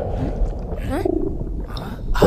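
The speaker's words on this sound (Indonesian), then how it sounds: "itu suara perut kamu." Cartoon stomach rumble, a low gurgling growl of a hungry belly, continuous and fairly loud through the clip alongside bubbly underwater-style tones.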